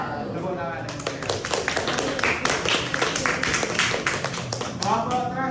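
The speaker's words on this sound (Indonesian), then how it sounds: "Tepuk tangan yang meriah." Applause from a classroom audience after a student group finishes its presentation: dense, steady clapping from many hands, close and lively, lasting throughout with scattered voices mixed in.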